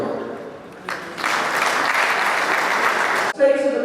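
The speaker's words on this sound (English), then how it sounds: "Can we give him a round of applause?" An audience at an international literary convention breaks into loud, sustained applause after a speaker's muffled voice, and the clapping cuts off abruptly before talk resumes.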